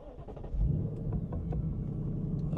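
A 2024 Ford Mustang GT with a six-speed manual fires up in neutral, its engine catching into a steady, deep rumbling idle close by and at moderate volume, with no talk over it.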